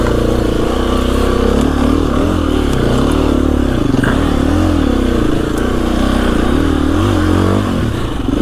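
A KTM EXC-F 350 dirt bike engine runs loud and close on a wet, rainy trail ride, its throttle rising and falling in a continuous buzzing drone with rattles and scrapes.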